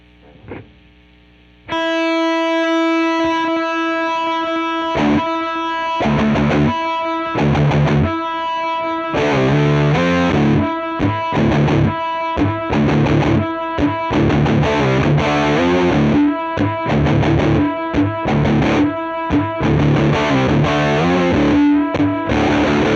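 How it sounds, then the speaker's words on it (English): Overdriven electric guitar through a Walrus Audio Melee, reverb feeding the overdrive, washy reverb tail, plays a shoegaze riff of chords and single notes, loud and continuous after a brief quiet start. "this time I'm going to have the reverb going into the overdrive"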